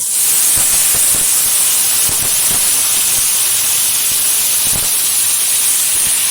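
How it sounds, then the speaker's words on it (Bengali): Washed taro (kharkol) leaves fry uncovered in an open pan, giving a loud, steady steamy hiss with occasional soft clicks of stirring throughout. "ঢাকনা ছাড়াই এটা আমি ভেজে নিচ্ছি ভালোভাবে"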